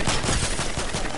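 Video game gunfire rattles in a dense, continuous burst for the whole moment, loud and close with no voices over it.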